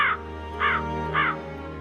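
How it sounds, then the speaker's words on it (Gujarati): A crow caws three times at an even, unhurried pace. The calls sound moderately close and stand clear over a soft steady background hum, with no talk. "કાલુ કાગડો બીજા ઝાડ ઉપર બેઠો બેઠો આ બધું જોઈને હસે છે"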